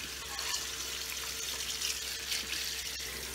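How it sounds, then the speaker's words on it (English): Cold tap water runs into a kitchen sink over freshly drained cooked pasta: a steady, fairly loud hissing splash that holds throughout without talk. "we're going to go ahead and drain it and rinse it with some cold water."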